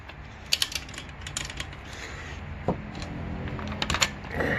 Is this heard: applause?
no